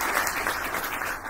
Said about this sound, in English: Micah Swimmer, give him a round of applause.